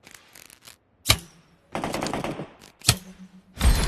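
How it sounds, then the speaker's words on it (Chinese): Gunfire in a first-person shooter game: two sharp, loud shots about two seconds apart, each followed by a short ringing tail, with softer rattling game noise between them and no talking. "刚才听到经典有枪声啊"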